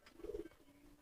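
Low, soft pigeon cooing, a short burst of a few throaty notes early on, close and fairly quiet, followed by a faint lingering hum, with no one speaking.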